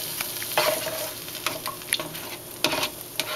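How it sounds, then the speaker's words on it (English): A couple of eggs sizzle and fry in grapeseed oil in a pan while being stirred and scrambled, with steady crackling and occasional scraping stirs, no talking. "I put a little bit of grapeseed oil. And there's a couple of eggs in there. Just to scramble the egg."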